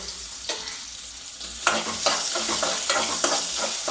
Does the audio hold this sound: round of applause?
no